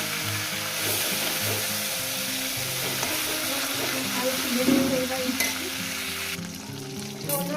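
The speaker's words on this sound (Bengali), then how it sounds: "মাছের মাথাটা ভাজা হয়ে গেছে" Hilsa fish head frying in oil in a pan for chorchori, a steady crackling sizzle with occasional stirring scrapes that grows briefly louder midway.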